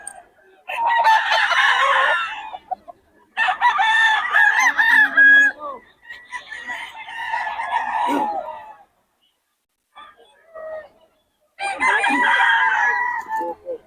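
Roosters crowing repeatedly at a cockfight market, several loud overlapping calls in bursts with short gaps between, some clucking mixed in and faint talk in the background.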